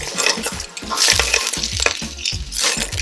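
Stirring sugar into a pot of escovitch sauce for Jamaican fried fish: a spoon scrapes and swishes around the pot in repeated strokes, with light clinks and a faint sizzle underneath, close and fairly loud.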